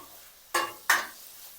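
Capsicum curry with tomato and spice powder being sautéed in a pan: two quick scraping strokes of a spoon, sharp and close, over near silence.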